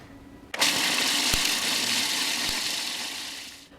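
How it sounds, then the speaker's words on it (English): A food processor grinds chocolate into a fine powder, a loud steady whirring drone that starts abruptly, runs unbroken for about three seconds and then stops, with no talking. "Now this makes a lot of noise, so while the food processor is going, I'm going to be silent because you won't hear me over it."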